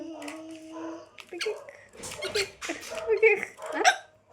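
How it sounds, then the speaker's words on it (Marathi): A child hiccups several times in quick, uneven bursts, mixed with breathy vocal sounds and other nearby voices at a fair. "उचकी लागली"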